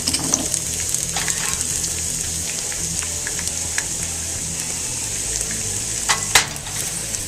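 Hot oil in a pan gives off a loud, dense, steady frying hiss with a few sharp crackles and pops, up close.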